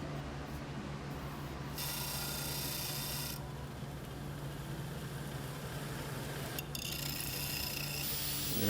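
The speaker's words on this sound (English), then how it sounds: "I'm just cleaning up the edges with the same Dremel there" Dremel rotary tool grinding and smoothing the cut edges of a leaf-spring steel ulu knife, a steady close rasping whir that brightens and dulls in passes, running alone the whole time.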